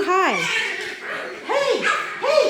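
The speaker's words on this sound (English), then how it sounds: "Oh man, puppy fight." Small puppies scuffle and squabble with sharp, rising yips and whiny barks in quick bursts, close and loud, one yelp after another.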